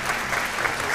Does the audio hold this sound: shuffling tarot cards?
no